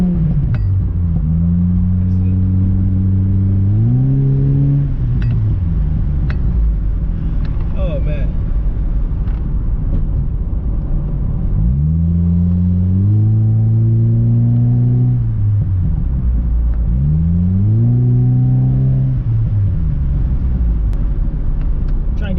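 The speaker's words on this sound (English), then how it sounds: "so you can hear the best pops, the best sounds from the exhaust" A car fitted with a Skunk2 aftermarket exhaust revs loudly and close up, the engine climbing and falling in three or four separate pulls over a constant idle rumble, with a few crackling pops.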